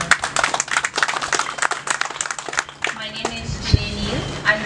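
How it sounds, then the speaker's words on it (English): An audience claps for a marimba band at a public ceremony in Benque Viejo. Dense applause fills the first three seconds, then thins out into voices and tones. "let's give them a round of applause"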